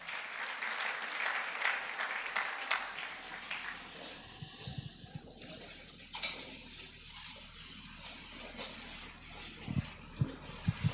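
A church congregation applauds after a scripture reading with dense, steady clapping for about four seconds, then it thins into room noise with a few scattered low thumps.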